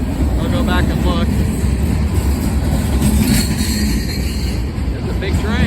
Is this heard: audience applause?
no